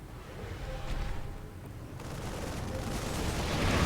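Soul Bombardment barrage from StarCraft II, a sustained rumbling wash of distant explosions and impacts that builds steadily in loudness over several seconds, with no voices.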